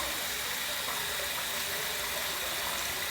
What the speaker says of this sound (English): gonna heat it in some hot water, swirl in the sink to bring it to temperature